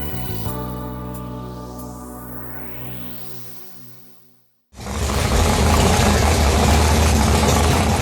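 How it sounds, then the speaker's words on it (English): A deep race car engine idles with a steady harmonic hum, fades briefly to near silence, then returns as a loud, rough, broadband engine rumble. "Every engine lover knows that sweet sound of an engine that is ready to race."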